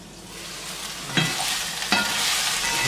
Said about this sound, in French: On les remue.